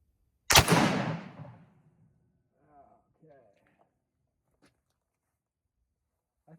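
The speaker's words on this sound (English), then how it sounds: "We're just shooting the Walker, having a little fun." A single loud Walker cap and ball revolver shot cracks out close by and trails off in a long decaying boom. Faint speech and small handling noises follow afterward.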